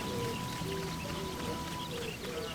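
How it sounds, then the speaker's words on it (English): Steady rainfall in the Sakuna of Rice and Ruin video game, a dense continuous patter with faint tonal game sounds layered over it, no voices. "It's raining."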